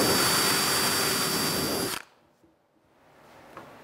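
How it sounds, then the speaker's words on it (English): A power drill whirs loudly and steadily for about two seconds while drilling a pilot hole in wood, then cuts off, leaving near silence with a faint knock afterward. "all I'm going to do is pilot drill this and screw this in"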